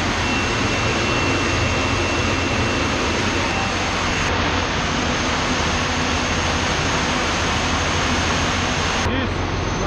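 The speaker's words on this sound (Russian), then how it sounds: "Турбина номер 3. Разогнать до 1200 оборотов." Industrial turbine number 3 at a boiler plant spinning up toward 1200 rpm, a loud steady jet-like roar and whine filling the whole clip without a break.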